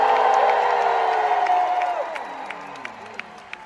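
A large D23 Expo crowd shouting and cheering loudly, the roar peaking early and then fading into scattered whoops and a few claps.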